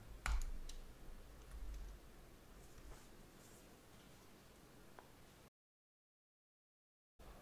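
Computer mouse clicks while working in 3D dental software, a few sharp, quiet clicks near the start and one more later against a faint background hum, followed by a short stretch of silence.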